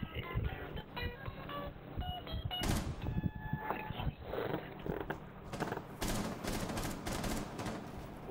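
Gunfire in the video game Rainbow Six Siege, with repeated shots and bursts crackling in a busy, fairly faint mix of game sounds.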